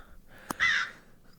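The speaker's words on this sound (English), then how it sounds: "I assume this crow belongs to you." A single crow gives one short, harsh caw, close and clear, just after a brief sharp tap, with near silence around it.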